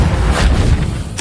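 Spell effects being cast in the video game Hogwarts Legacy, including Expelliarmus and Reparo, land as a dense run of booming, thudding magical blasts with a bright crackle at the end, loud and continuous over about a second.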